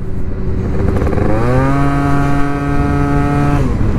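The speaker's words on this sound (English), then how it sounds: "Loud pipes save lives. It's definitely the case for this two-stroke." A Yamaha 125cc two-stroke scooter fitted with a full Malossi exhaust rides past loudly. Its engine note climbs steadily in pitch from a low drone, then holds a high, buzzy whine before easing off near the end. No one speaks over it.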